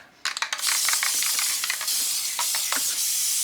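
A spray paint can releases a loud, close, continuous hiss as a thick coat goes onto DIY Christmas lollipop decorations, after a few quick rattling clicks at the start.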